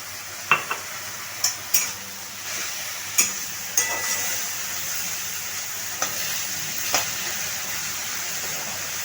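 Mutton masala with ginger paste and a splash of hot water frying over a low gas flame, a steady close sizzle punctuated by several sharp scrapes and clinks of a stirring spoon against the pot.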